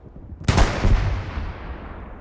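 A frag grenade explodes in a video game: one sudden, loud, close blast with a heavy low boom that rumbles and fades over about two seconds.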